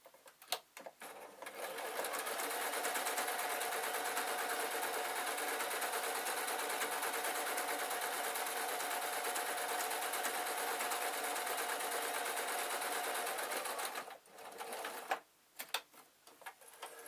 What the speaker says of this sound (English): And then I'm just going to sew down to the bottom.